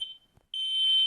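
A household smoke detector sounds upstairs with a shrill, high electronic beep: a brief chirp, a short pause, then a longer sustained tone, fairly loud and alone.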